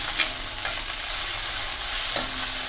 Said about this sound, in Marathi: मी गॅस ना मोठीच ठेवलंय म्हणून ह्यो चरचर आवाज